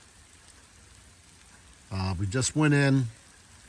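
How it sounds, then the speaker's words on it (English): Steady rain patters on a campsite in an even, soft hiss; a voice speaks briefly over it partway through. "Well, it's raining right now."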